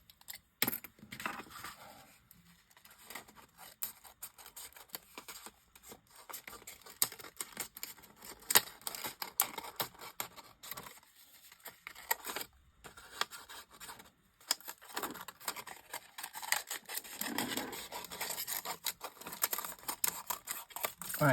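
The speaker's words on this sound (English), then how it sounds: "Now I can trim round the rest of it" Small scissors trim around a piece of card for a shaker card, giving a long run of quiet, close snips and paper rustles with brief pauses and no talk.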